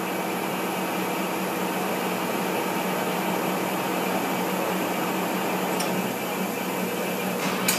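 Toshiba-Shibaura BFT-13C horizontal boring mill with a hardened spindle rapid traversing inward, giving a steady, loud machine hum and whir with an even level throughout and a couple of faint clicks near the end.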